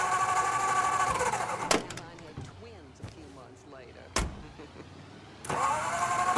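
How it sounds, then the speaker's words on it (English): A car engine starts and runs in the Mafia 3 video game, alongside door slams and thumps, with a voice speaking over the car sounds. "Get into Donovan's car"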